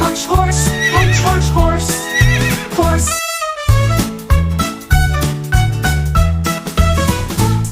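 A horse whinnies once with a high shaky neigh, set against a bouncy rhythmic music track that keeps playing around it.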